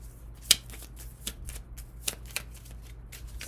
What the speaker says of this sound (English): I've been shuffling for quite a while off camera as well